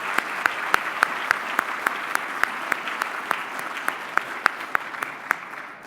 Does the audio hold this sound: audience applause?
yes